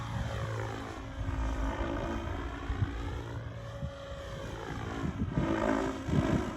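Blade 700 Fusion RC helicopter flying a flip, its rotor and motor drone loud and steady, the pitch swooping up and down through the manoeuvre, with no talking.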